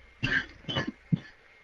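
A few short, harsh coughs, three bursts in quick succession with a throaty catch, close to the microphone during a ranked Rainbow Six Siege session.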